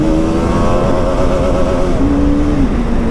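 A Royal Enfield Bullet motorcycle ridden along, its engine droning loud and close with a steady low thump and slight pitch shifts as the rider eases the throttle, and no voices.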